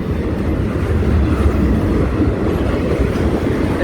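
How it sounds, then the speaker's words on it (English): A long Union Pacific freight train rumbles past in Westmont, Illinois, a steady, loud, close roar of heavy wagons rolling on the rails with faint clattering, continuous for the whole stretch. "There's the end of the train."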